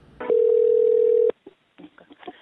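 A single steady telephone tone sounds loudly for about one second, followed by faint clicks and line noise as a call is placed.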